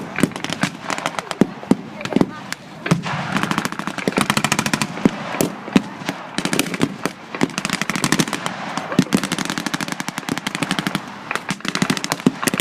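M8 armored cars firing machine guns at German forces in a World War II battle video game, with dense, rapid bursts of gunfire running continuously and loudly throughout, mixed with other battle noise and some talk.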